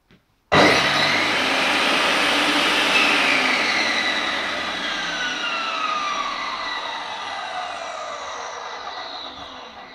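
A JCB TCI-650-250 stone and tile cutting saw switches on with a quick click and spins up fast into a loud, steady high whine. The whine then eases slightly as the motor keeps running.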